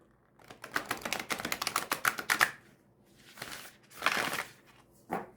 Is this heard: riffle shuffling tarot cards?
yes